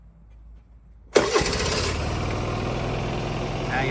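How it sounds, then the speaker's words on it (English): An Aprilia SR Motard 125cc motorcycle from 2013 starts after a quiet moment, a sudden close burst of cranking and firing that settles at once into a steady, loud idle. "so what we do is we start the bike"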